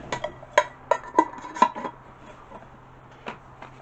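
Small metal camping cooking pots being handled, with a quick series of bright ringing clinks and clanks, then a pause and a single later knock, close and fairly quiet over a low steady hum.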